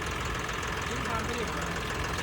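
A John Deere 5310 tractor engine idles with a steady, rough mid-pitched rumble that stays constant and close throughout the short stretch.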